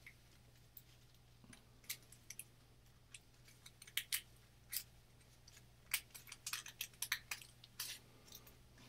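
Tape is applied to the parts of a homemade caliper as a run of quiet, crisp, irregular clicks and crinkles, with a steady low electrical hum underneath.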